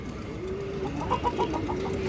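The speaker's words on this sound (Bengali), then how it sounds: "একটা মাদি কবুতর, কাজলা গিয়ার একটা মাদি কবুতর" A female Kajla pigeon gives a short run of soft, rhythmic coos, several quick pulsing notes close by over a faint background hum.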